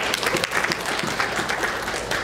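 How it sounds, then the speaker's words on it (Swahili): Audience at an official sports ceremony applauding, a brief dense wash of many hands clapping, steady and fairly loud. "Tuwapigie makofi na wao"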